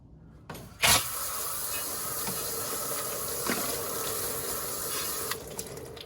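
Water sprays onto greasy engine parts after a degreaser has been applied, a steady hissing rush that starts with a sharp burst and runs continuously close by, with no talking.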